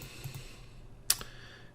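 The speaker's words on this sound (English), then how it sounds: "I'm just going to click Delete on my keyboard" A single Delete key press on a computer keyboard, one sharp, faint click standing out against a quiet room hum, with a couple of softer taps just before it.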